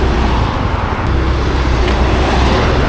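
Loud, dense road traffic with cars passing close by on a Saturday afternoon, a continuous engine and tire roar with no gaps and no talking.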